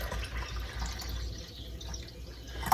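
Cashew nut milk poured into a container, a steady close trickle and splash of liquid with faint dripping, heard alone.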